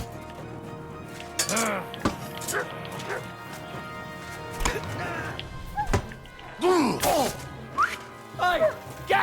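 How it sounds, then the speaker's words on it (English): Dog barking and snarling during a fight in Kingdom Come: Deliverance 2, with repeated sharp barks and yelps scattered across the scene, mixed with thuds of blows and someone shouting. "Watch out! He's got a dog!"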